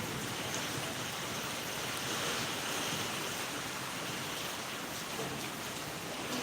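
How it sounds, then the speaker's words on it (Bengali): Light drizzle falls outdoors while wind bends coconut trees, forming an even, unbroken hiss that stays constant throughout with no voices. "ঝিরিঝিরি এখন বৃষ্টি হচ্ছে"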